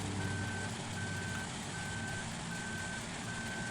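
A truck's reversing alarm sounds in Farming Simulator 2011, a regular series of high electronic beeps over a steady engine rumble, moderately loud and with no voices.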